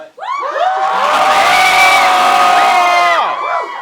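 A high school crowd at Edison High roars with cheers, shouts and whoops, swelling fast to a loud, sustained peak for about three seconds before trailing off.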